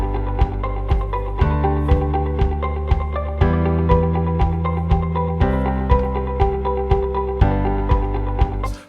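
A stock-music loop combines guitar with a steady thumping kick drum, a low bass line and piano chords. The kick beats regularly under the held harmonies, and the loop plays on its own with no talking before cutting off at the end.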